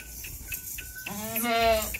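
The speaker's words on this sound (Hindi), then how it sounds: "ये देखें जी, बड़ी बड़ी बकरियां देखें" Rajanpuri goats bleat on a farm, a long wavering close call following a few shorter soft bleats amid light background noise.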